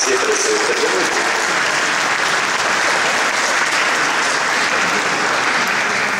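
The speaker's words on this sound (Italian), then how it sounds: "Facciamo un applauso" Dense, steady applause from an audience inside a church at a band concert, a continuous wash of clapping hands with no pause.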